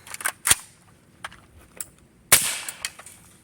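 Two sharp, suppressed subsonic rifle shots fired with a closed gas block and a wet suppressor: a crisp crack early on and a louder one later, with faint clicks and handling noise between them.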